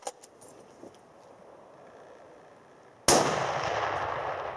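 A single loud rifle shot cracks out during a moose hunt, a sharp broadband blast arriving abruptly after a quiet stretch of outdoor ambience and trailing off into a long, echoing decay.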